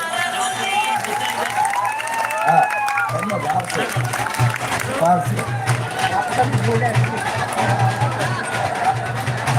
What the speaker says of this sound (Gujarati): આપણે સૌ તાળીઓથી વધારીએ